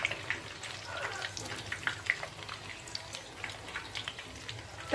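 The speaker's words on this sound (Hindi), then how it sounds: "तकरीबन 3 मिनट लगेंगे इनको फ्राई होने में।" Chicken nuggets frying in hot oil over a medium flame, a steady close crackling sizzle with scattered pops and spits, a voice occasionally speaking over it.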